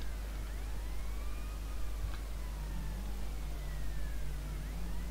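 A police car siren in the video game GTA Vice City wails in long, slow rising and falling sweeps that sound moderately distant, over a steady hiss and low engine hum.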